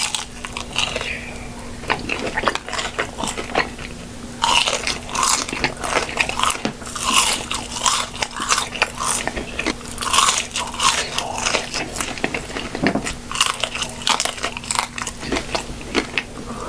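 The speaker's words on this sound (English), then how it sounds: "these Nashville hot mozzarella sticks are like just as good as the ones from Chili's." Biting and chewing Nashville hot mozzarella sticks in a fast food mukbang, with close, crunchy bites and wet chewing repeating steadily and loud throughout, alone without talk.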